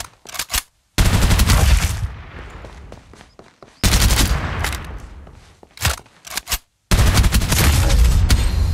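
Gunfire in the Farlight 84 mobile video game: loud bursts of automatic shots fired in several long volleys separated by brief silences, with a few single cracks at the start.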